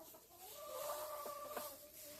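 Three chickens cluck inside a wooden roosting box, their short tonal calls rising and overlapping at close range over a soft background hiss, with no voices present.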